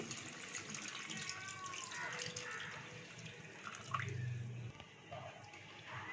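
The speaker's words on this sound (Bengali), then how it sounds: "এবার দিয়ে দিচ্ছি বেশ কিছুটা জল" Water poured into chicken curry in a pan over spices already fried in oil, a quiet running and splashing stream close by, steady and ending in a few drips.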